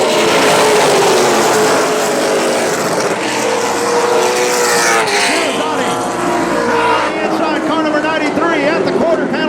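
Race cars roar past on the straightaway at Central Texas Speedway, a continuous loud engine drone that swells and shifts as the pack goes by, with an announcer talking over it throughout.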